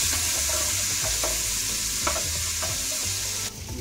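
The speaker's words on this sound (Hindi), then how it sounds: "थोड़ा सा जिंजर गार्लिक पेस्ट डालता हूँ और इसको हम अच्छे तरीके से भुनेंगे" Ginger garlic paste fries in oil in a pan for a restaurant-style tomato gravy, giving a dense continuous sizzle with occasional stirring scrapes, close and steady with no voices.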